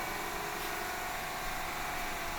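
A Sanden air conditioning compressor's motor runs on a test stand, giving a steady, even hum and whir that holds unchanged throughout.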